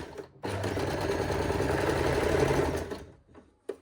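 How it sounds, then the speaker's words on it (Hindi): A sewing machine stitches a double umbrella frock in one continuous whirring run of about two and a half seconds, starting and stopping abruptly, with quiet moments on either side. "इस तरह हम इसको बाहर पलटेंगे और बिल्कुल इसके पास पास सिलाई लगा देंगे"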